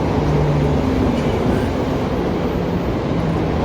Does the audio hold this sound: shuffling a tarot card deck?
no